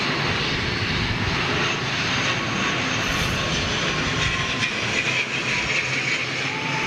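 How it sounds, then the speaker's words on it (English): An ATR 72 turboprop airliner coming in to land makes a loud, steady engine and propeller roar that stays constant and fairly near for the whole stretch, without speech. "there's a little ATR 72 coming in with a stubby little nose on it."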